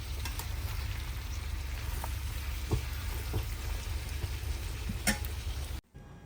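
Chickpeas with masala cooking on a low gas flame, giving a soft continuous simmering sizzle with faint ticks and pops that cuts off abruptly near the end.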